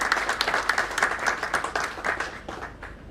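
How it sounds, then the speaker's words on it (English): A lecture audience applauds after a talk on tax policy. The clapping is dense and steady, a mix of many hands at moderate distance, and it fades slightly toward the end with no voices over it. "Ladies and gentlemen, a big round of applause, please."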